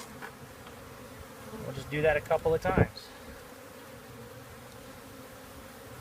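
A live honey bee swarm in a neighborhood is shaken into a bucket, a brief burst of loud buzzing in several quick pulses that fades back to a low drone, with a voice speaking nearby.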